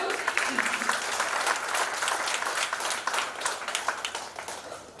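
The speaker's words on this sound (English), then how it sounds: "we have given standing ovation and rounds of applause to Dr. Velamani" Indoor awards-ceremony audience gives a round of applause and standing ovation, dense close clapping with sharp individual hand claps, steady then tapering off toward the end, with a voice briefly heard over it.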